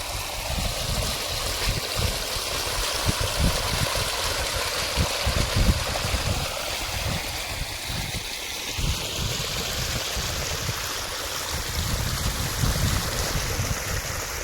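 Water rushes and gurgles steadily nearby as it flows into a farm field channel, a continuous flowing wash with low churning, no voices present.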